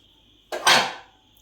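Rui fish hits hot oil in a frying pan with a sudden loud sizzle that flares up and then fades within a second, over a quiet kitchen hum.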